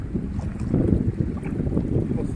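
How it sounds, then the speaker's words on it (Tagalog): Strong wind on the coast of Cory Island, Pangasinan, buffets the microphone in a steady low roar with gusty surges, no voices heard. "Sobrang lakas ng hangin, talagang umiikot."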